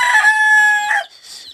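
A rooster crows loudly and close on a rural farm, one long sustained cock-a-doodle-doo followed by a brief clucking note, with no talking.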